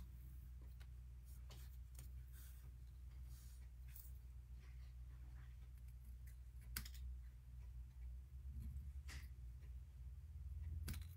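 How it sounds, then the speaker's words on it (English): Paper snips cut apart words stamped on paper for handmade cards, giving sparse, crisp little clicks over a steady low background hum, with no talking. "take my paper snips, and I'm just going to cut this apart,"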